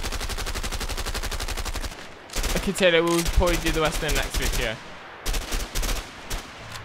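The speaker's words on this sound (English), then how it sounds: "Try shooting at those empty houses." Rapid bursts of gunfire shot at empty houses in the video game A Way Out, repeated volleys loud and close, broken by a pause where someone talks over them.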